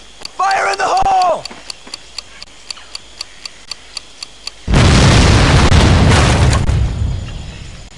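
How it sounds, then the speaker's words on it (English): In the Medal of Honor: Pacific Assault video game, a brief shouted voice and a steady ticking fuse give way to a loud, sustained explosion as a cannon is blown up, the blast rumbling on for a few seconds before fading. "Tommy, blow this cannon and let's get the hell out of here"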